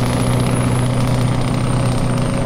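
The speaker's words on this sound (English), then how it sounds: "This engine is loud, but I love the sound of it." A Mack Ultraliner truck engine in American Truck Simulator drones loud and steady, a deep constant rumble with a faint high whine above it and no breaks.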